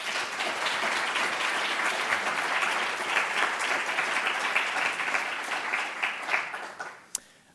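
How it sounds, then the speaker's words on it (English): Audience applause at the opening lecture of a mum show at a botanic garden, steady and dense for about seven seconds before thinning out and ending with a single sharp clap. "Let's give them a round of applause, please."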